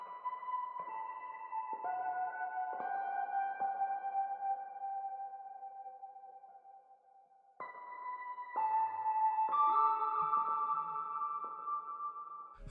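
A dark electric guitar sample played through the At Peace preset in the Memento plugin rings out in soft, shimmering layered notes, fading gradually before a second brighter phrase enters.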